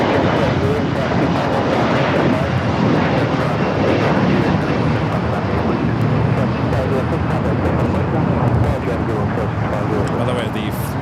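A TAP Air Portugal jet from Lisbon arrives at LAX with a loud, steady airliner engine roar that stays constant throughout. A voice talks over it.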